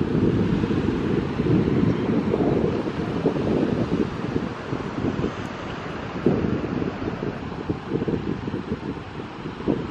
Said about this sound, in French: Comme c'est beau, c'est une plage de sable noir.